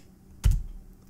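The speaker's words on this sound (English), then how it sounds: "I'm definitely leaving the keyboard sounds on." Single keyboard keystroke sound from the video game Midnight Protocol: one short, sharp, close clack with a brief low thud.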